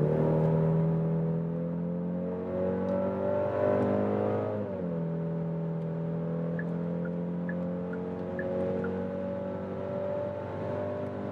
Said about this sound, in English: let's accelerate it out.